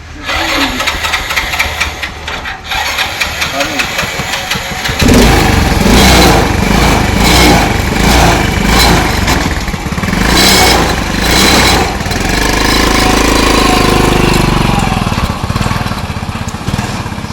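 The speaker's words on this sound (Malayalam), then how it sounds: "പാഷൻ പ്രോ ബൈക്കിന്റെ എഞ്ചിനാണ് ആദിത്യന്റെ വാഹനത്തിന് കരുത്തു നൽകുന്നത്" A Hero Passion Pro motorcycle engine powering a homemade buggy runs close by, sputtering at first, then revving loudly and steadily with uneven throttle swells.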